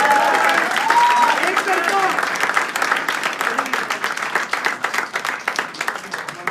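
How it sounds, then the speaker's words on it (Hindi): Audience applause at a live poetry recital gathering, a dense sustained burst of many hands clapping that slowly thins out, with a voice speaking over the clapping. "एक बार फिर से तालियां बनती है भाई"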